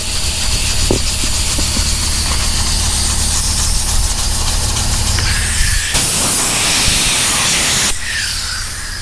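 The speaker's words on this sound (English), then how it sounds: "You see what the air hose do?" Compressed air from a shop air hose blasts over a sanded fiberglass door panel for a 1974 Chevy Caprice, a loud, continuous rushing hiss that cuts out sharply near the end and then bursts once more.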